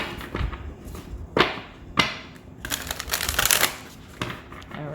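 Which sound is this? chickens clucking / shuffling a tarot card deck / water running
shuffling a tarot card deck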